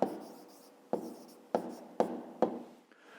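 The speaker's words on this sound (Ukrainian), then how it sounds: "Пишемо відповідь першому тоді пишемо ні." A pen writes an answer on paper for a fifth-grade maths exercise, making soft, close scratching strokes in about five short, evenly spaced bursts.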